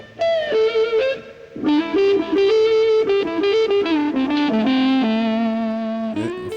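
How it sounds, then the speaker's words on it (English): A "woman tone" on electric guitar with the bass pickup selected and the tone control rolled off: a thick, smooth, overdriven lead line of sustained, singing notes and bends, loud and unaccompanied for several seconds. "The woman tone is produced by using either the bass pickup"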